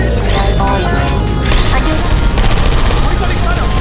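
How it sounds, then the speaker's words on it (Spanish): Gunfire in the Portal 2 video game: a loud, dense burst of rapid shots running continuously under game effects and a voice, with sharp crashes layered through the whole stretch. "Oigo disparos."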